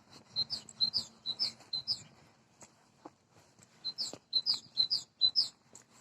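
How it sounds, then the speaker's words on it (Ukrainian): Small birds chirp and trill in a Ukrainian village in spring, two quick, bright bursts of song separated by a brief pause, fairly close with a quiet background. "Пташки співають."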